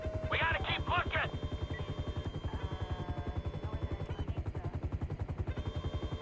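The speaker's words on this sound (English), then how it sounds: "Oh, they just shot someone" Gunfire in Grand Theft Auto V rattles in a rapid, steady rhythm of repeated shots, fairly close, with a brief tonal chirp early on.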